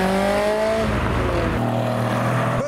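A BMW E53 drives past on leaving the Nürburgring, its engine a loud, steady tone that shifts pitch as the car passes close by, with no talk over it.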